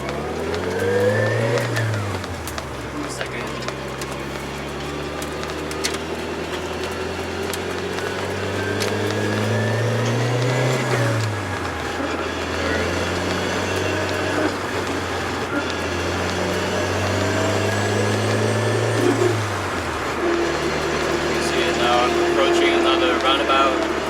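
A manual transmission car drives steadily with a loud engine drone throughout, rising and falling as it revs up and drops back through several gear changes and downshifts. Speech is likely present in parts, though no words were picked up.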